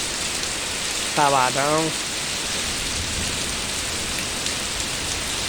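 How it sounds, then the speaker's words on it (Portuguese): Heavy morning rain in Manga, Minas Gerais, pours steadily as a dense, loud hiss throughout, with someone speaking briefly over it early on. "Chuvada legal dessa, ó."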